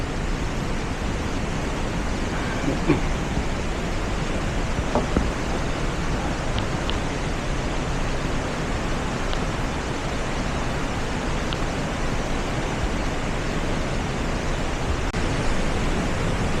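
Haew Narok waterfall in Khao Yai, Thailand roars as a constant, broad rushing wash of falling water, steady and unbroken from start to finish, with a few faint clicks and no talk.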